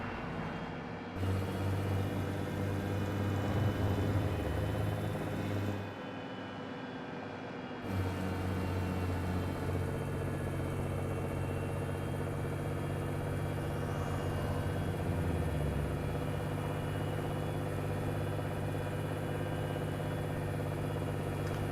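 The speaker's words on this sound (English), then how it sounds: "This supercharged engine is a neat sound." A supercharged truck engine in American Truck Simulator drones steadily, a mid-pitched continuous hum that dips briefly and then holds, with no voices.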